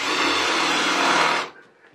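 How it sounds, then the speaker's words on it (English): A power drill spins a large bit in reverse against wood to countersink a screw hole, giving a steady, loud, close grinding whir for about a second and a half before cutting off abruptly. "I just put a big drill in and run it backwards"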